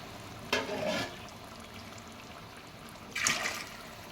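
Water from boiled jackfruit pours into a large pot for jackfruit biryani, cooked in bulk for a charity food donation. Two short, close splashing pours are separated by a quiet pause, with no talk.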